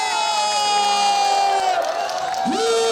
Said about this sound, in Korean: 한박수와 함성!